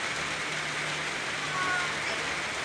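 Rain falls in a steady, faint hiss with no distinct drops standing out, a low continuous wash from start to finish.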